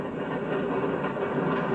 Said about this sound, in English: There goes the fast freight train from Kansas City to Chicago